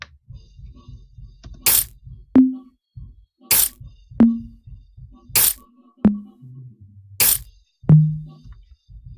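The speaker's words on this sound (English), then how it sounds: "So for this one I used FLS glass break, and I put the glass break really high up at C7" An FL Studio glass break sample pitched very high, up at C7, strikes four times at a steady spacing, each bright crack followed by a short low thump, over a soft repeating beat.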